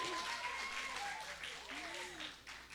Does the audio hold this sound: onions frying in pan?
no